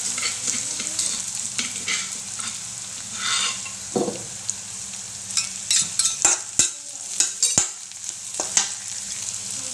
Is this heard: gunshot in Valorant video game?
no